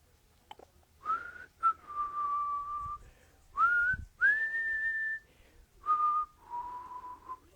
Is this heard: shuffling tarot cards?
no